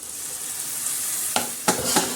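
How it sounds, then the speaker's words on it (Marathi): Moong dal sautéing in a garlic and cumin tempering over spinach and dill greens, a continuous soft sizzle with two or three quick scraping stirs near the end. "मूग डाळ अशी छान परतून घेतली"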